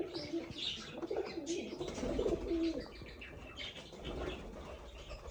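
Pigeons for sale coo in low, rolling calls with some wing flaps and faint chirps, close by against a busy background.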